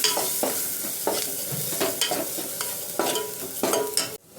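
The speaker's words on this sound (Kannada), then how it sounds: "ಈಗ ಇದನ್ನ ಚೆನ್ನಾಗಿ ಮಿಕ್ಸ್ ಮಾಡ್ಕೋಣ" A spoon stirs chili powder into chickpea curry in a hot pan, with rhythmic scraping strokes roughly every half second over a light, steady sizzle.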